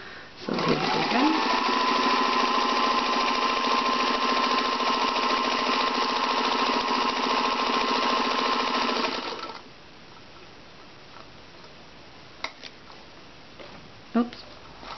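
A Singer 221K sewing machine runs at steady speed for about nine seconds, a fast, even mechanical whirr and needle patter up close, then stops, leaving a quiet room with a couple of small clicks.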